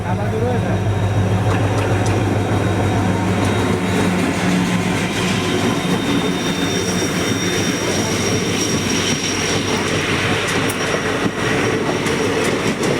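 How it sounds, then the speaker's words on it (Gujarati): A long train passes close by, its loud, continuous rumble and rattling wagons holding steady throughout, with faint wheel squeal and clacking over the track. "હવે રેલ ગાડી આવે છે તો એનો આપણે વિડીયો ઉતારી લઈએ"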